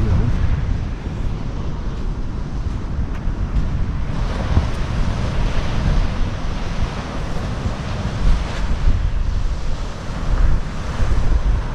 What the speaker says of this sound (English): we're gonna check out the ocean.